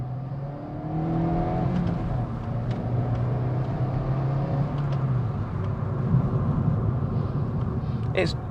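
A 2018 Suzuki Swift Sport hatchback engine revs up hard in second gear, its tone climbing steadily under load with a muted, flat exhaust note, recorded from inside the car.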